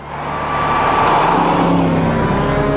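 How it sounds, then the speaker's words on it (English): A BMW Z8 roadster's V8 engine holds a steady, loud exhaust note, swelling slightly as it settles into a continuous rumble with no talk. "listening to the exhaust note of the V8"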